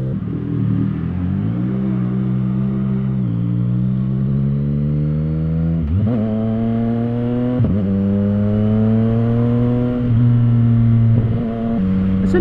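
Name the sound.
CFMoto 675 SR-R motorcycle exhaust pipe and wind noise while riding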